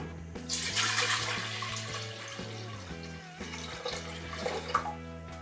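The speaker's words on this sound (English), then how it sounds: "I'm going to fill the rest up with water." Water pours steadily into a pot, splashing and bubbling for several seconds with no one speaking.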